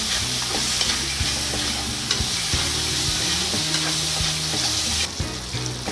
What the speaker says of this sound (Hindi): ये देखिए इसको मिक्स कर रही हूँ, थोड़ा ये टमाटर सॉफ्ट हो जाए।